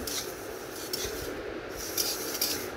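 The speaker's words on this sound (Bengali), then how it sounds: "কথা বলতে বলতে আমার ডালটা ভাজা হয়ে গেল। এবার আর একটু ভাজতে হবে" Lentils fry in a pan for khichuri, stirred with a utensil in a steady, close scraping and rubbing rhythm over a soft hiss, with no speech.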